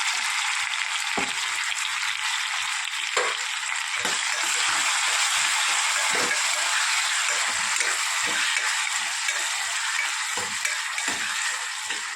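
Mustard seeds, tomato, onion, garlic and green chillies sizzle in hot oil for a cluster bean and potato dish, a bright steady frying hiss broken by frequent sharp pops and crackles of the seeds.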